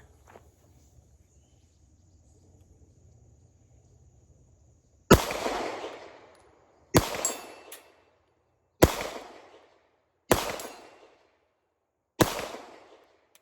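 Five sharp handgun shots from a Sig P320 Compact fired outdoors at a target 80 yards away, spaced about two seconds apart, each loud crack followed by a short decaying echo after several seconds of quiet ambience.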